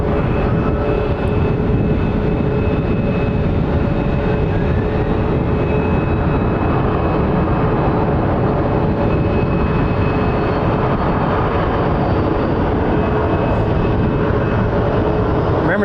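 An airplane at Phoenix Sky Harbor International Airport gives off a loud, unbroken jet roar that stays constant for about sixteen seconds.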